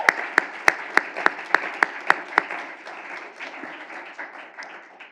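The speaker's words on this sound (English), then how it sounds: "Can we just give a round of applause to all of our students," A handful of sharp, separate claps ring out at the start of applause for students at an awards event, then the sound thins to a softer, scattered patter that fades away, fairly quiet overall.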